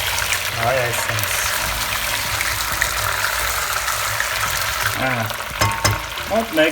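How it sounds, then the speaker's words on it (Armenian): Chicken pieces fry with tomato paste in a pan as they are stirred, giving a steady sizzle with scraping stirs, while someone talks over it. "այս ամենը շարունակում ենք տապակել, արդեն տոմատի մածուկով"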